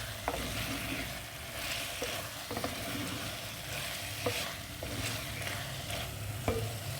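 Mutton keema with chopped potato fries in a pan, a steady sizzle under repeated spoon scrapes and knocks at a slow, irregular pace, and no talk.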